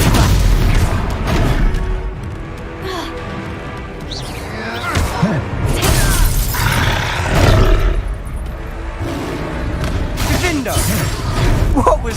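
Booming spell blasts from the Confringo spell in Hogwarts Legacy, heavy crashes and bursts going off repeatedly through a busy game scene, mixed with music and character voices.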